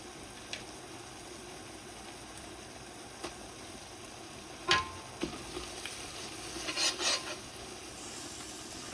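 Mutton biryani being stirred in a large pot after a handful of coriander leaves goes in, a soft steady scraping and sizzling close by with a few louder scrapes of the spoon toward the end.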